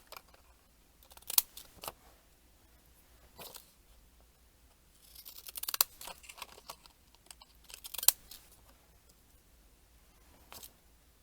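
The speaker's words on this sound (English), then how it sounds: "So I'm going to use some of these Fiskars scissors." Fiskars scissors cut through paper in a few separate snips, short crisp crunches spread out with quiet gaps between them, heard up close.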